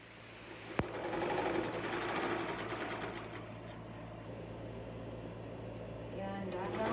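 A sewing machine stitches a chair cover, humming and whirring steadily after a single sharp click, close by and moderately quiet, with a voice talking softly underneath.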